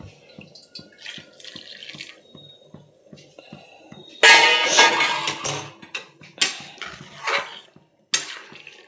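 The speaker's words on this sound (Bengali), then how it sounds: "এইবার তোমার বাকি যে জলটা আছে গরমে বসানো, সেই জলটা এবার দিয়ে দেবো।" Hot water is poured into a cooking pot of chicken rice, a sudden loud gushing splash that runs for a few seconds, then breaks into shorter pours and clinks, preceded by quiet rhythmic ticking and kitchen clatter.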